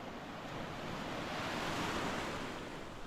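Waves roll onto a stony beach in a Maltese bay in January, a steady broadband wash of surf with some wind noise on the microphone, continuous and fairly loud, with no voices.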